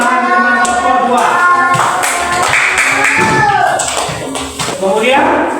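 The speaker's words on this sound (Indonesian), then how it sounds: "Berikan tepuk tangan teman kelompok" Classmates clap for their group in a school classroom, a short burst of applause mixed with tapping and overlapping voices.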